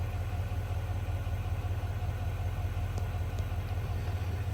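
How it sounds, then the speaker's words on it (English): 2024 GMC Sierra Denali with a Duramax diesel engine idling cold after start-up, a steady close low rumble with an even pulsing throb and no speech. "Let it idle here for a second."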